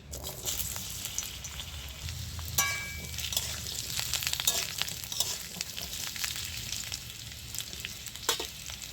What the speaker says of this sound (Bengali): তো তেলটা গরম হয়ে গেছে, এবার আলুটা আমি ভেজে নিচ্ছি